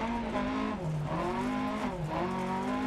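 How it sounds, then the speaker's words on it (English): A rally car engine roars in the racing game Dirt Rally 2.0, loud and sustained, its pitch sweeping down and back up twice as the driver shifts and brakes through a bend, with a faint tire squeal and no speech. "I hope the engines aren't turned up too loud for you guys"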